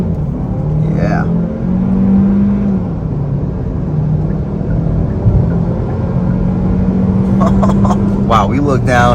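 A 2024 Hyundai Kona N-Line accelerating on a multi-lane highway, a steady interior engine and road drone with the engine note rising and shifting as speed builds, voices talking and exclaiming over it.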